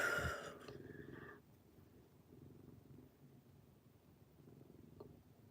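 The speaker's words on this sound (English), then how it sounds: "Y'all hear him purring?" A large male cat, about 12 pounds, purrs softly nearby as a faint, continuous low rumble. A brief louder noise comes at the start, then the quiet purr carries on alone.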